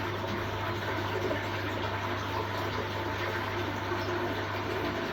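Water rushes steadily and continuously into an aquarium tank, a constant gushing fill with a low hum underneath, no pauses or talking.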